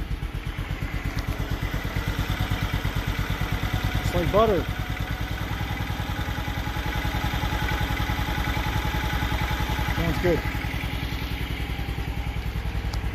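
A motorcycle engine idles steadily with a fast, even putter throughout, while people talk briefly over it.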